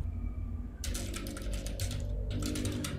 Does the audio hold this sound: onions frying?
no